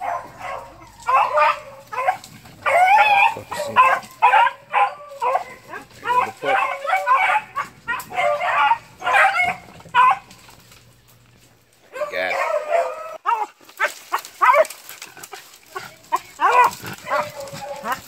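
Dogs yip and bark in rapid, excited bursts during rabbit training, close by and fairly loud, with short gaps and a voice speaking at times.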